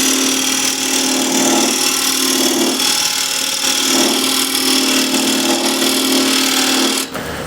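Wood turning on a lathe with a square end scraper roughing out a tenon, a loud steady whining hum with rhythmic scraping swells that cuts off abruptly near the end.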